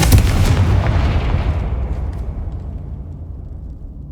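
A Confringo blasting spell explodes in Hogwarts Legacy with a loud, booming burst that rumbles low and fades out steadily over several seconds, heard on its own.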